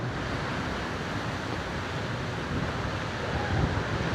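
Strong, gusty windstorm roars continuously and buffets the microphone in Savarkundla, Gujarat, a loud, close rush with no letup.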